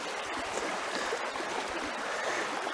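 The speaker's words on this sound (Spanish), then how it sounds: "cuando estamos en un arroyo encañonado, como es este caso" Steady rushing flow of a creek running through a narrow canyon in the Gran Sierra Plegada of Nuevo León, a continuous broadband wash with faint trickles, fairly close and with no voices.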